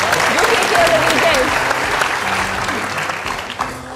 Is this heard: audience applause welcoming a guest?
yes